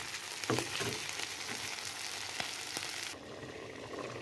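Potatoes and fish sizzle in a pan on the stove, a steady close frying hiss with a few brief clinks and stirring sounds, no voices.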